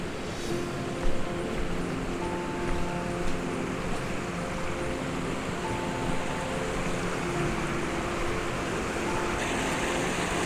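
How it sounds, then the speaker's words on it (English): Waterfall at Koreelah Creek pours steadily, a broad continuous rushing wash of water heard close and unbroken, with faint tonal hum underneath. "So this is the main section of the falls."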